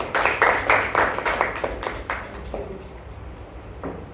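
Audience applause at a Toastmasters club meeting in Bengaluru, a few seconds of dense close clapping that thins out into scattered claps and fades near the end.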